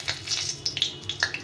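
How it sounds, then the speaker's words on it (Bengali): A dried red chili crackles in hot mustard oil in a kadai as a tempering, giving a few sharp pops and light sizzles spread over a moment, close and clear with no speech. "ফোড়নে দেবো একটা শুকনো লঙ্কা"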